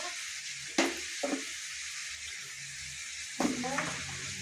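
Chicken kasha with tomato cooks in a frying pan, a soft sizzle running underneath as a utensil scrapes and stirs in a few distinct strokes.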